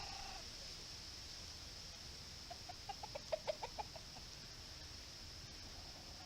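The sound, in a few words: chickens clucking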